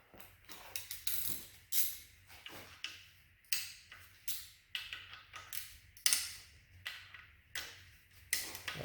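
A wrench ratchets on 10 mm timing cover bolts of a Honda K20 engine, giving close, crisp clicking bursts in a steady rhythm, roughly two per second, with no talking.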